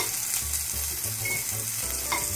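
Food for a za'atar chicken and farro salad sizzles steadily in a hot pan as it is stirred, a close, continuous frying hiss with faint scraping and no talking.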